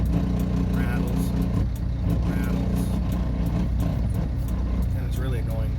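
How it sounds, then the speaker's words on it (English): An International truck sits at idle, its low steady engine drone mixed with faint buzzing rattles from the cheap interior trim, heard from inside the cab. "something's rattling in here. It's because of the idle the truck."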